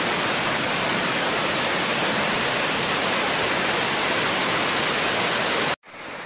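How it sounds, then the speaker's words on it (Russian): The Mirveti waterfall in Adjara roars as a steady, loud, broadband rush of falling water close by, cutting off abruptly near the end. "А вот водопад Мирвети."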